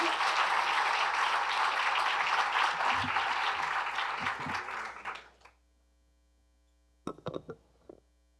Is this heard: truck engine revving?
no